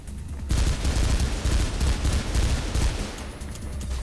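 Rapid, loud gunfire bursts in the PC game Mirror's Edge, a dense fusillade of shots that starts abruptly and continues steadily to the end.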